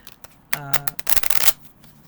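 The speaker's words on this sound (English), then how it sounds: "You can do the overhand shuffle." Oracle cards being shuffled by hand with an overhand shuffle, giving quick papery riffling flutters and taps up close, with a short bit of speech at the start of the burst.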